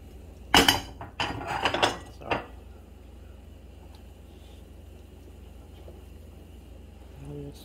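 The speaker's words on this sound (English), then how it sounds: "Stir it. I'm country, you see what I'm stirring it with." Giblet gravy is stirred in a pot with a utensil grabbed at hand, giving a few close clinks and scrapes in the first seconds, then only a quiet hum.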